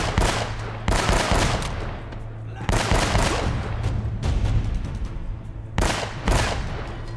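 Gunfire from the video game Uncharted: Drake's Fortune, with loud rapid automatic bursts and heavy shots coming in three dense waves, echoing and rumbling between volleys, with no talking.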